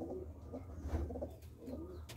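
Pet pigeons at a pigeon-keeping club coo in soft, low, repeated throaty phrases close by, a gentle rolling rhythm over a quiet hum with no talking.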